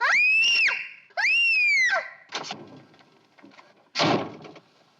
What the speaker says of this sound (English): Do your screaming when you're running where we can see you